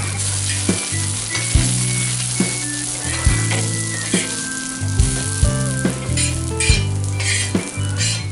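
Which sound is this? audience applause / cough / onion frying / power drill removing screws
onion frying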